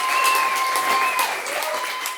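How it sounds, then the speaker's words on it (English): An audience at a Plano Young Republicans candidate forum clapping for Ellen, steady mid-loud applause throughout, with a thin tonal ring, likely microphone feedback, running across it. "let's hear another round of applause for Ellen"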